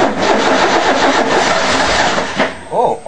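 A 1988 Ford F150 parts truck engine being cold-started after sitting three months: a loud, close, rhythmic starter churn that cranks steadily without fully catching, ending with a short vocal sound.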